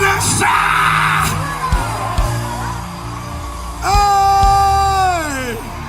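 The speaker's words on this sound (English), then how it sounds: "Give the Lord a shout." Church congregation shouting and whooping loudly in praise during a worship service, a sustained mass yell that rises sharply again near the end, with scattered cries over a dense crowd roar.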